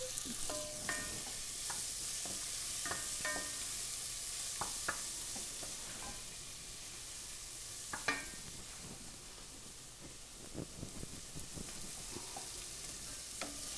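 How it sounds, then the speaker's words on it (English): Garlic and onions sautéing in oil for a coconut curry mussels dish, a constant sizzling hiss broken by scattered scraping stirs and light utensil taps against the pan, close and steady with no voices. "I'm gonna throw in the garlic."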